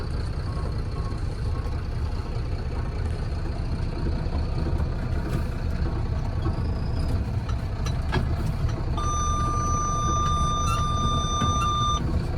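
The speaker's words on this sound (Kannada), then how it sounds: "ಅದಕ್ಕೆ ಗಾಡಿ ಇಲ್ಲಿ ರೇವರ್ಸ್ ಹಚ್ಚೋಣ ಬರ್ರಿ" A cement truck reversing at a cement loading point. A steady, loud diesel rumble runs throughout, and near the end a clear, evenly spaced run of high electronic reversing beeps sounds repeatedly over the engine. No one speaks.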